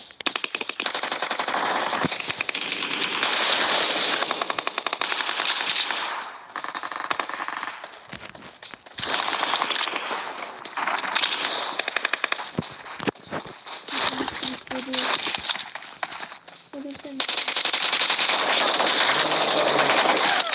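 Rapid automatic gunfire in a shooter video game rattles loud and sustained in long bursts with brief pauses, dense and harsh throughout.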